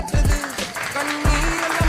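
A crowd applauds at the Munambam land-rights protest pavilion in Kerala, a steady burst of dense clapping with some voices mixed in.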